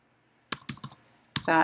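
Several quick keystrokes on a computer keyboard enter a web address into a browser, sounding as a few separate close clicks followed by a short burst of voice.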